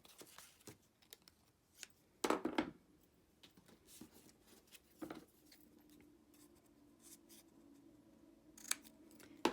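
Designer series paper trimmed for a handmade card, with a few crisp scissor snips and a cluster of quick cuts standing out against quiet papercraft handling noises, close by and with no talking.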